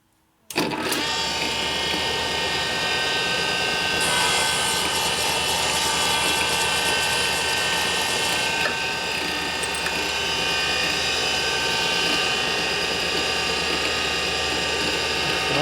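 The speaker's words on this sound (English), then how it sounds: "we're gonna grind our valves now" Valve grinding machine working on Sportster Ironhead engine valves during a motor rebuild, a sudden start into a loud, steady mechanical whir with a fine ratcheting, gear-like texture and a high shrill tone layered in partway through.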